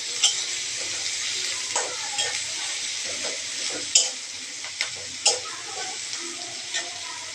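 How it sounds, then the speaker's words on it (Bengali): Oil sizzles steadily in a pan as turmeric and salt are sautéed, with sharp scraping clicks of a spoon stirring at irregular intervals. "তারপরে দিলাম হলুদ এবং লবণ, এগুলা দিয়ে ভালো করে কষাই করে নিতে হবে।"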